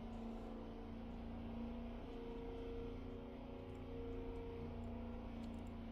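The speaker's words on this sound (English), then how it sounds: "Okay, who's in a car? I can hear it idling." A car engine idles steadily at low level, a constant hum with a faint tonal drone and no revving, continuous throughout.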